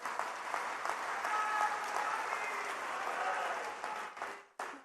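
A crowd at a canal foundation-stone ceremony in Jhunjhunu claps steadily in dense, sustained applause for several seconds before it thins out and cuts off abruptly.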